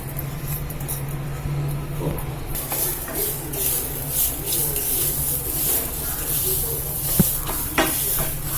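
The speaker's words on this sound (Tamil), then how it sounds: "இப்போ இதை நான் உங்களுக்கு வறுத்து காட்டுறேன். இந்த சட்டியில போட்டு நம்ம வறுத்துக்கலாம்ப்பா." Kodo millet (varagu rice) is dry-roasted in a pan, giving a soft, steady hiss and rustle of grains being stirred and scraped, with a few small clicks near the end.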